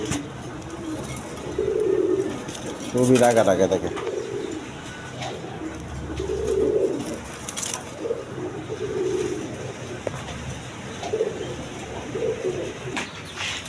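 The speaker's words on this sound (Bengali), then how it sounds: "হাই ফ্লাইং কবুতর দেখেন" High-flying pigeons cooing repeatedly in soft throaty bursts, close by, with a short spoken phrase over them and faint background noise.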